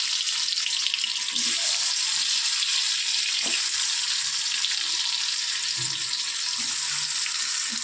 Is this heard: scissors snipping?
no